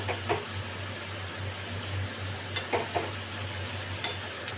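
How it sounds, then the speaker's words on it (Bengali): Sweet palm-fruit luchi frying in hot oil, a steady soft sizzle with occasional faint pops and stirring taps, close by, over a low constant hum. "লুচিগুলো আমার সব ভাজা হয়ে গেল"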